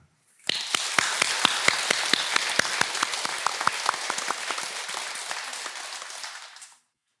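A temple congregation breaks into applause, a sudden burst of many hands clapping densely and steadily for about six seconds before cutting off.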